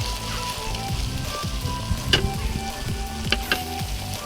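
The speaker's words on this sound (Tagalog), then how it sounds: "Sunod, ilagay na natin ang noodles na dahan-dahan. Pagkatapos, i-mix ulit natin." Noodles being mixed into a frying sardine and vegetable mixture, a steady close sizzle with rhythmic scraping strokes of a spatula against the pan and a few sharp clinks, no speech.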